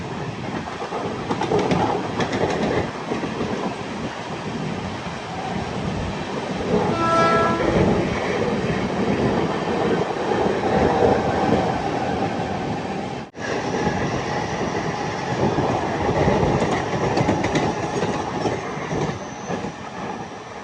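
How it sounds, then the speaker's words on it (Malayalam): A local train overtakes, heard from inside the Matsyagandha Express sleeper coach on a rainy Kerala to Mumbai run: a loud continuous rumble of wheels and carriages with a brief horn, a sudden dip midway, then steady rolling noise. "ഒരു ലോക്കൽ ട്രെയിൻ ഓവർടേക്ക് ചെയ്യുകയാണ്"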